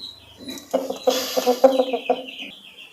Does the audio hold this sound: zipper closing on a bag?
no